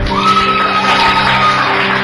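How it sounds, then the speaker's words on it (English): A church congregation shouts, claps and cheers loudly together, a dense wash of voices with whoops rising above the din. "after clapping and shouting"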